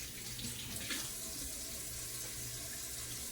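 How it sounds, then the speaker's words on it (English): A tap runs steadily into a sink as food is rinsed under it, a soft, even splashing rush that stays faint throughout with no talking. "So now let me rinse this off again."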